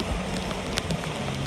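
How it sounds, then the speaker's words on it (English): Rain falling outdoors in Edo State during the rainy season, a steady broadband patter with scattered brief drop ticks, fairly close and unbroken for the whole stretch, with no talking. "I just spoil every day as I walk out inside the rain"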